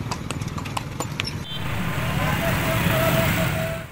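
Horse hooves clip-clop as a horse pulls a tanga cart through a city street, a rapid rhythmic clatter of steps up close at first, then giving way to steady traffic noise and a passing vehicle.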